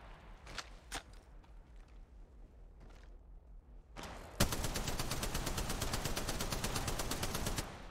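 Gunfire in Apex Legends: a few scattered shots and footsteps at first, then a loud, sustained rapid automatic burst that runs steadily to the end.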